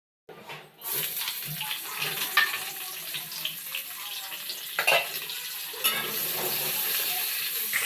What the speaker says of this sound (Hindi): यहाँ पे दाल छौंकने जा रहे हैं